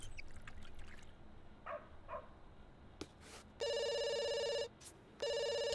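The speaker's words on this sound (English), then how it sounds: "She's going to hide from the phone ringing." A telephone rings in The Sims, two loud, steady electronic ring bursts separated by a short pause, after quiet ambient game sounds.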